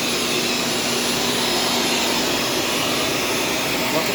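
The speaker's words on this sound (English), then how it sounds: "I vacuum on a regular basis." A Shark self-cleaning vacuum cleaner runs steadily up close, giving a loud, continuous motor whine and airy rush with no breaks.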